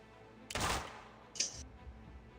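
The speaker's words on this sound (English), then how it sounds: "So now we should hear gunfire." A burst of gunfire in the video game Escape Simulator followed by a second, shorter, higher-pitched shot, fairly close over a quiet low hum.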